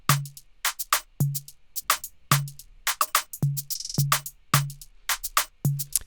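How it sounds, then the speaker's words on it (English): A programmed beat repeats in a steady pattern, with crisp hi-hat ticks fired in quick rolling bursts between deep kick thumps, loud and close with no voices. "there's a hat called a roll hat"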